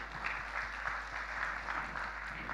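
Congregation applauding during a church service, steady dense clapping filling the room at moderate level with no voices over it.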